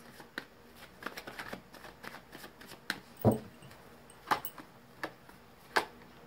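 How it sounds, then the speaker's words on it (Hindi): A deck of tarot cards is shuffled and drawn, heard close and quiet as soft riffling and rustling taps with a few sharper slaps of cards landing. "मैंने कर ली है कार्ड्स की सफलिंग। निकालते हैं कुछ कार्ड्स।"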